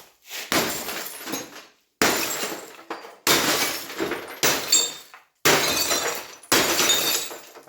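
Repeated axe blows smashing the glass of a CRT television: six loud, sharp shattering crashes, each followed by tinkling debris, separated by short gaps, close and forceful.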